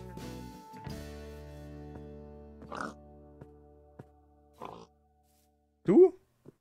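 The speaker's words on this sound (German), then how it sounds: "So, Schweinis, kommt mal ran hier." Pigs in the video game Minecraft grunt in a few short bursts spaced several seconds apart, heard over steady background music with a brief voice at the start.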